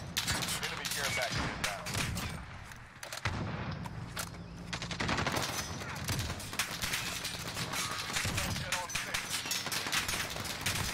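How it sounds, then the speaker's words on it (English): Dense gunfire from many players in a shooter video game, rapid overlapping shots and volleys rattling almost nonstop, with a person talking over the din. "There's so many people shooting at me"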